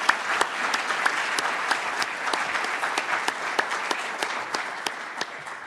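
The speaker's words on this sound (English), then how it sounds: "we should give a round of applause to our great presenters" An audience claps for the presenters at the end of a session, a moderate, steady round of applause with distinct individual claps, tapering off slightly at the end.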